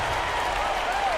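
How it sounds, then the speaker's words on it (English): A huge arena crowd in the NBA 2K15 basketball video game roars and cheers after a shot, a dense steady wash of noise with a faint rising tone near the end, lasting about a second. "That shot eliciting a roar from this gigantic crowd."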